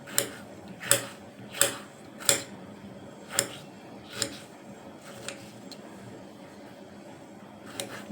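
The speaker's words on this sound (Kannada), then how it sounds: "ಈ ಥರ ಸಣ್ಣದಾಗಿ ಹೆಚ್ಕೊಬೇಕು ಚೆನ್ನಾಗಿ." A knife chops tomatoes finely on a board for tomato rice, with crisp, close taps at a steady pace that grow fainter and sparser toward the end, under a quiet room background and no talk.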